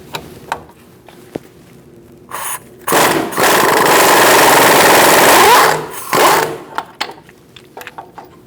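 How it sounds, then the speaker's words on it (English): An impact gun with a 21mm socket works loose the outer tie rod nut on a 2004-2012 Chevrolet Colorado. A loud sustained burst of about three seconds follows a short blip and is surrounded by scattered clanks and handling noises. "Using a 21mm socket, I'm going to put it on this nut on the top. And I'm going to use my impact gun to loosen it up."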